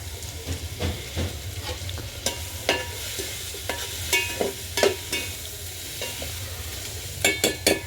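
Tomato, green chili and raw mango pieces fry in a pan over a village wood-fire stove, a steady close sizzle broken by repeated scraping stirs that come in uneven bursts, with no talking.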